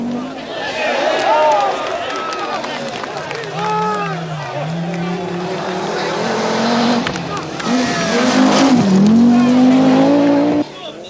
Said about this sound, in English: Over the gravel stages, the 4-wheel drive Quattros soon catch up